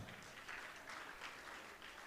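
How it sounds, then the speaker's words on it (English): Applause from an audience at a panel session, a faint, steady patter of clapping heard from a distance for a couple of seconds. "A round of applause for these panelists, please."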